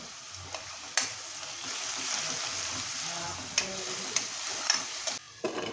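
Onions frying with salt in a pan make a steady, moderate sizzle, broken by a few sharp utensil clicks and scrapes against the pan.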